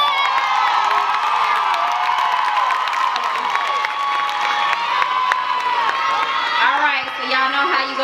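A high school graduation crowd cheers, whoops and claps as diplomas are conferred, a loud, dense, continuous roar of many voices with scattered shouts running throughout.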